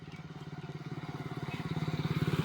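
A motorcycle engine hums in a pulsing drone that grows steadily louder as the bike approaches on a road.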